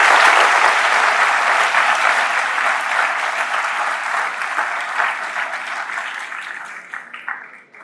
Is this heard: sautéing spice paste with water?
no